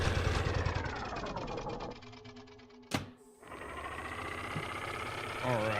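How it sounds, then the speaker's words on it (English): A vehicle engine in the video game Escape Memoirs turns over and runs with a steady, rumbling drone, broken by one sharp mechanical clunk midway before settling back into a continuous run. "press engine start."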